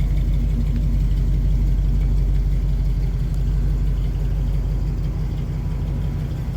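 Engine of a 1970 Chevrolet C10 long-wheelbase pickup truck, a steady deep rumble that holds loud and close throughout, with no voices over it.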